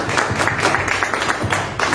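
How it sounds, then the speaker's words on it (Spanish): Applause from an audience at a Peruvian political debate event, a steady dense patter of many hands clapping close by for the full two seconds, with no talking over it. "Un aplauso, comencemos con Raúl Chadamé."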